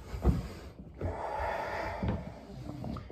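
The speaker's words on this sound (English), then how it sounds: "having a bulldog snore in the deep shavasana while we work out" A bulldog snores and snorts nearby in a quiet room during a home workout, with two rough snorts standing out over steady heavy breathing.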